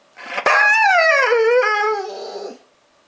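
A Siberian husky lets out one long, close, loud howl that rises and wavers in pitch before trailing off into silence.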